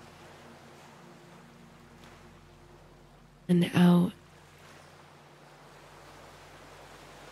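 Steady rolling ocean waves wash in a soft, continuous surf that stays even throughout, with a brief spoken voice rising over it midway.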